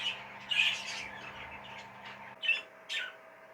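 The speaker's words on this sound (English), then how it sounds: "you can probably hear all the birds in full voice behind me" Cage birds chirp and squawk in bursts against a low background hum, with sharp louder calls near the end.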